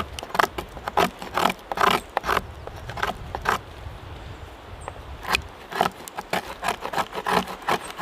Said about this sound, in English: I'm going to use my knife and I'm going to use it to scrape together some shavings